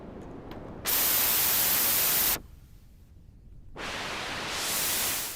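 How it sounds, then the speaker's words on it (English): Loud synthesized white noise from the Lagrange synthesizer app on an iPad hisses in two bursts through a low-pass filter, with a quieter, muffled stretch between them; the second burst swells gradually and sounds filtered. "this is white noise with a low pass filter"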